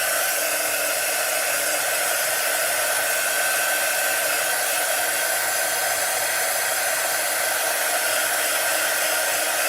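A warm-air heat tool runs steadily and loudly throughout, drying ink on a craft project, a constant broadband blowing roar with no talk over it.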